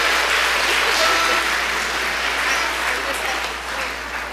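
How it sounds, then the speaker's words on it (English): An audience at a live event gives participants a sustained round of applause, a dense, loud wash of clapping that fades slightly toward the end. "Can you give the participants till now, whoever has participated, a good applause?"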